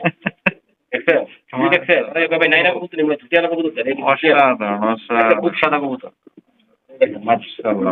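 A pair of pigeons, male and female, held on a hand give soft cooing calls, largely buried under loud, continuous nearby talk.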